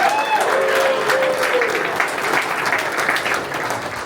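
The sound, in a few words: audience applause for Harford County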